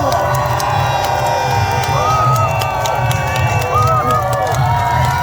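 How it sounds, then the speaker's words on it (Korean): Cheering crowd at an outdoor presidential campaign rally in Daegu, welcoming the candidate's daughter. A loud, continuous roar of voices and whoops stays constant with a low rumble, while someone speaks over it. "여러분 박수 한번 해주시기 바랍니다."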